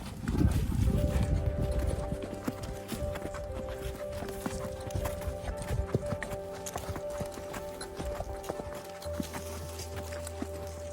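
Hooves clip-clop steadily on hard ground as horses walk nearby, with creaks and soft thuds and a low rumble under them.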